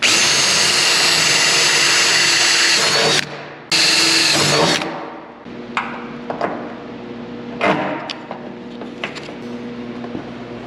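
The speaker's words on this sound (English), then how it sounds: "then I can drill 2 holes in the firewall and then bolt it through" A power drill whines loudly and continuously drilling holes in the firewall of a 1930 Dodge pickup, pauses briefly, runs again, then gives way to scattered clanks and short bursts of tool noise.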